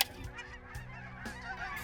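A flock of snow geese honking close by during a waterfowl hunt, dense overlapping calls in a steady chorus with a few sharper honks standing out.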